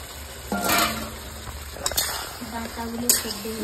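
Potato and cauliflower being fried and stirred in gravy: soft sizzling under intermittent spoon scrapes and clinks against the pan, with a few brief voiced sounds.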